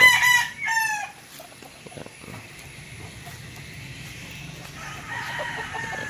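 A backyard gamefowl rooster crows loudly and close at the start, followed by quieter clucking and faint yard noise from the chickens.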